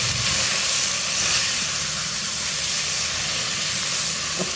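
Brinjal pieces drop into a pan on high heat and fry with a loud, dense hiss of oil that holds steady throughout.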